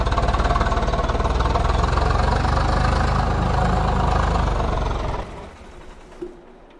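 In Farming Simulator 22, a tractor engine idles with a loud, steady low rumble that cuts off abruptly after about five seconds, leaving a quiet tail with a small knock.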